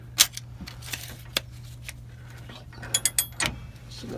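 A socket wrench turns an eccentric bolt on a motorhome tag axle in a garage, producing scattered mechanical clicks and ratchet-like ticks, with a small burst of clatter near the end; the sound is close but fairly quiet over a low steady hum.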